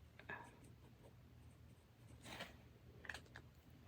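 Faint scratching of a pen writing a quick note, close but quiet, with soft scraping strokes and a few small taps in a hushed room.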